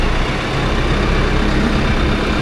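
A tractor engine runs steadily at low revs to drive the PTO, a loud, continuous low rumble close by with no break or change over the short stretch.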